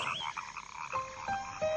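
Frogs croak in a steady chorus, a few close calls overlapping with distant ones, repeated tonal croaks and trills over a constant background of night noise, no voices.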